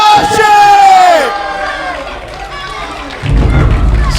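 Loud crowd roar and cheering at an MMA fight night as a fighter is introduced for his entrance, sustained and dense, with a deep bass thump rising near the end.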